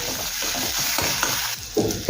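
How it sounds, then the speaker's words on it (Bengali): Onion with ginger and garlic paste frying for moong dal gives a close, steady sizzle, with soft stirring scrapes throughout and a louder stir near the end. "পেঁয়াজের সাথে আদা রসুন কিছুক্ষণ সময় নিয়ে ভেজে নেব।"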